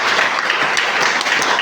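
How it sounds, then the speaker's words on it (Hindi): Dense applause from an audience at an event honouring a late community member, steady and loud throughout the short stretch with no talk over it. "एक बार उनके लिए तालियां बजा सकते हैं आप"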